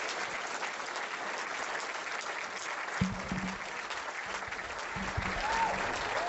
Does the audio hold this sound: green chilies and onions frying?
no